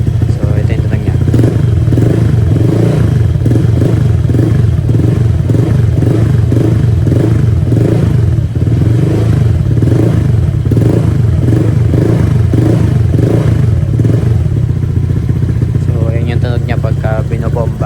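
A Honda Click 125i scooter fitted with a K2 EVO Shark Tip exhaust revs in loud, close, steady pulses, its engine note throbbing evenly and rising briefly near the end.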